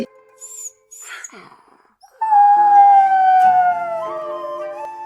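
A small dog whimpers in short, high whines, then lets out a long, drawn-out howling cry that wavers and fades slightly.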